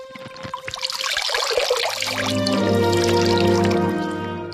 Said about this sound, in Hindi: आर्किमिडीज जैसे ही टब में बैठे, थोड़ा पानी बाहर छलका